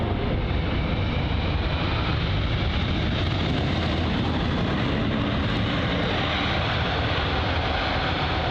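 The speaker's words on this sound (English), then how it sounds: "very loud when the reverse thrusts were active" A Boeing 777-200 airliner landing with reverse thrust engaged, a loud, steady, broad engine roar heard from close by, sustained without pause and with no voices.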